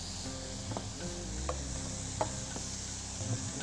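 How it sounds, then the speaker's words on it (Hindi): Prawns frying in a pan while being stirred, a steady soft sizzle with occasional light scrapes and clicks of the utensil against the pan. "और प्रॉन्स को अच्छी तरह फ्राई करें"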